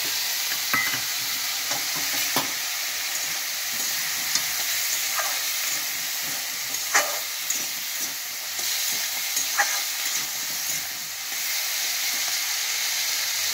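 Chopped capsicum sizzles steadily in a hot pan for a chicken soup, with repeated scraping stirs cutting through the constant close frying hiss.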